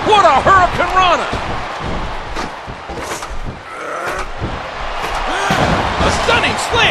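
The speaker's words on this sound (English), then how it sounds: "Just listen to his body crash into the ground." Heavy thuds of a wrestler's body slamming into the mat in Smackdown vs RAW 2009 at WrestleMania 24, several impacts under loud crowd noise and commentary talk.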